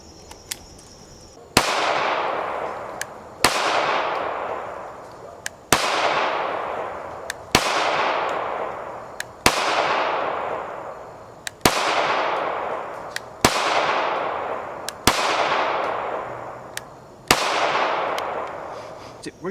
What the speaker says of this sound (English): we're going to shoot about 3 rounds, change magazines with each one